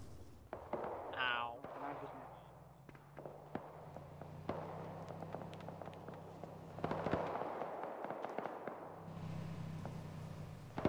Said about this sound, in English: Shots from behind, pull back.